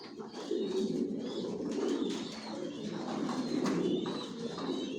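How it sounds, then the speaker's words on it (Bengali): Racer pigeons coo steadily inside a loft, overlapping low throaty calls rolling continuously at moderate volume, with occasional faint chirps and soft rustling. "সব একই লাইনের কবুতর পালি, জনসনের লংয়ের।"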